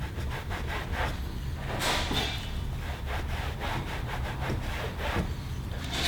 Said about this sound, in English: brush it quickly and try to get some suds happening.